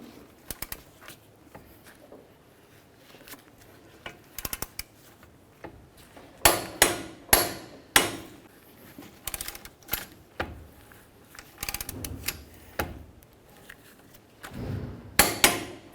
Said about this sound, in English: Now we're going to torque both of these lower ball joints to 148 foot-pounds.